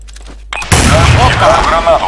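A grenade blast in Counter-Strike Source bursts in loudly after a brief quiet stretch, followed by rumbling debris and ringing whistly tones that trail off under faint background voice.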